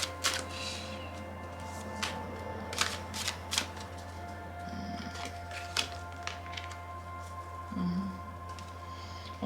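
Oracle cards riffle and slap in short, quick bursts, close and fairly quiet, with pauses between, as the deck is shuffled for another draw; no talking.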